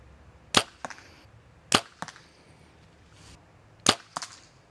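Arrows shot from a homemade bow fitted with a Spott Hogg Fast Eddie XL sight during sighting-in, three shots in all, each a sharp snap of release followed closely by a crisp impact, loud and close against quiet outdoor background.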